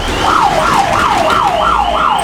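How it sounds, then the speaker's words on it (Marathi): A shop security alarm set off by a shutter sensor sounds a loud electronic siren, warbling in quick, regular up-and-down sweeps that continue steadily on their own without any voices. "आणि याच प्रकारे सायरन वाजणार"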